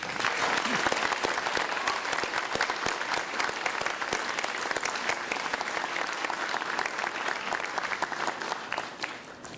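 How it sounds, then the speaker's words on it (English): Graduation commencement audience at Fallon's 2011 ceremony applauding loudly and steadily, dense sustained clapping from a large crowd throughout, with faint voices mixed in. "hope you will clap hands again, put your hands together"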